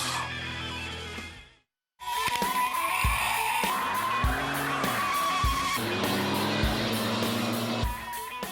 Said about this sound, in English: A full-size pickup doing a burnout may surprise some people.